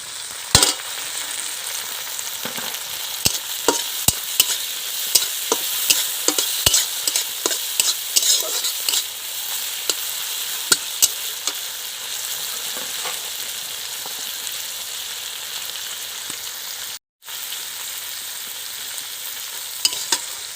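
Chopped tomato fries in a pan for a singara filling, a steady loud sizzle with frequent scraping clicks of a spatula stirring, interrupted by one brief silent gap near the end.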